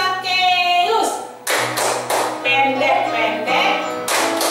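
Sharp hand claps and taps fall in a quick rhythmic pattern while a voice chants a children's clapping song, with a steady musical tone underneath.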